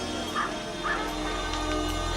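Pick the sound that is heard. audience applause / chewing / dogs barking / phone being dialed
dogs barking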